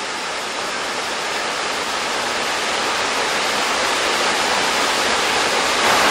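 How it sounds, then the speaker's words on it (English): A waterfall near Packsaddle Covered Bridge in snowy, icy Pennsylvania roars as a steady, loud wash of rushing water with no other sounds. "There's our waterfall."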